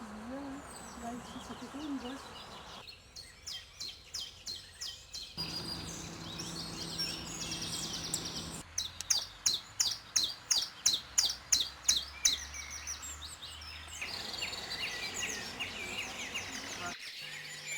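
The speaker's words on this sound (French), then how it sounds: "Autour d'un chemin, un magnifique oiseau. C'est un roitelet triple bandeau." Firecrest singing beside a woodland path: high, thin chirping phrases and rapid trilled bursts, fairly close, mixed with other birdsong and faint background noise.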